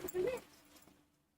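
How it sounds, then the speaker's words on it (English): A dog gives a single short whimper up close, a high whining cry lasting a fraction of a second before fading into quiet room noise. "My dog was trying to attack me."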